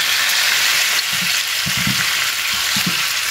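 Potatoes frying in hot oil, a loud, steady, hissing sizzle that runs unbroken throughout, with faint low knocks of handling underneath and no voices.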